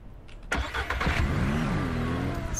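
A vehicle engine in the farming game Ranch Simulator starts up with a sharp burst, then settles into a steady, loud mid-pitched running drone that shifts slightly in pitch as the vehicle drives, with no talking.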